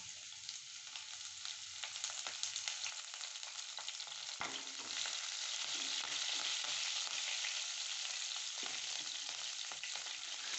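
Ginger and chopped green chilies frying in oil with mustard seeds, a faint, continuous hiss of sizzling with occasional light stirring scrapes, growing slightly louder midway.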